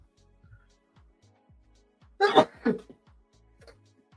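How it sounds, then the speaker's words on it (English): A sudden sneeze close by in an otherwise quiet room, a sharp burst followed by a brief second exhale. "That was my first sneeze on stream ever."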